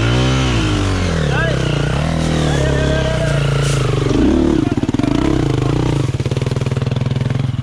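A nearby motorcycle engine rumbles and revs, pitch rising and falling with throttle changes, while a voice talks over it.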